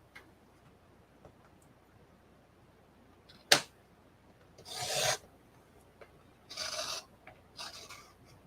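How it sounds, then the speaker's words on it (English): A blade cuts card along a ruler in several short scraping strokes, a sharp snap followed by longer rasping drags separated by quiet pauses. "I'm going to use my little ruler here at a 1/2 inch, and I'm going to cut down to the 5 inch mark"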